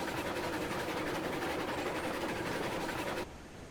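Continuous rolling train noise from the video game Railroads Online, with a low engine drone and faint rhythmic clacking, steady and loud, cutting off abruptly near the end.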